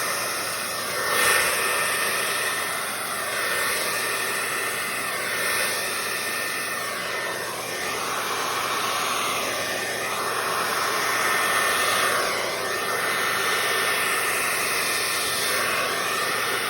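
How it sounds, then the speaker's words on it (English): Steady forced air from a hair dryer or heat gun blowing over wet Dutch-pour acrylic paint in garnet colour, a continuous close whooshing hiss with slight shifts in pitch that runs for the whole stretch without talk. "We'll blow this side over just a little bit more."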